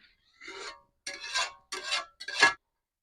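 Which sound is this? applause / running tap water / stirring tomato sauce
stirring tomato sauce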